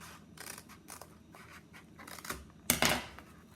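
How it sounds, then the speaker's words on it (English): Fabric scissors cut along the edge of tulle rolled around a board, giving a series of soft, close crisp snips and scrapes that build to a louder cut near the end. "Now I'm going to take my fabric scissors and I'm going to cut"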